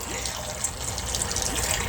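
A Hygger wave maker churning aquarium water, giving a steady close rush and slosh of moving water with a faint voice briefly audible over it.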